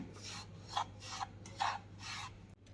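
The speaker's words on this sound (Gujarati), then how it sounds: "આમ ચમચાની મદદથી આવી રીતે આમ પ્રેસ કરતું જવાનું છે અને હલાવતું જવાનું છે." A spoon presses and stirs wheat flour mixed with ghee for atta peda, making soft, rhythmic rasping scrapes, about four strokes in a row, faint and close with no voices.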